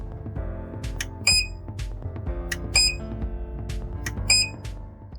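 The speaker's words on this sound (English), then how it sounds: "let me show you what I meant from those beeps between switches" Three bright, high-pitched electronic beep bursts at regular intervals from a TESmart KVM switch as it switches between PCs, each a short chirpy trill, ringing over a steady low hum and background tones.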